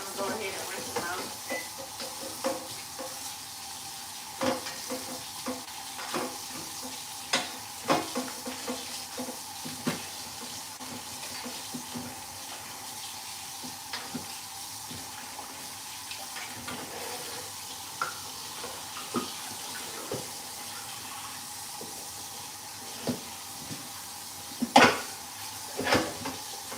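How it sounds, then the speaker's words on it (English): Dirty cabbages rinsed under a running kitchen tap, a steady hiss of water with scattered knocks and clatters of handling throughout, no talking. "They're pretty dirty, so I'm going to go ahead and rinse them out."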